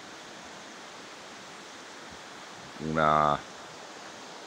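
A river rushes through the gorge near the Stiffe waterfalls and caves in Abruzzo, a steady broadband hiss of flowing water, with one brief spoken word near the end.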